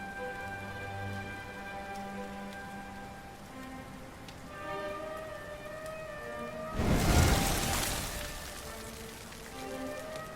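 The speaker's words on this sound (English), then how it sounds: "Looks like the rain's dying down." Rain patters steadily in Dragon Quest XI S over soft sustained music tones, with a brief louder noisy swell midway before easing back to gentle rainfall; no speech.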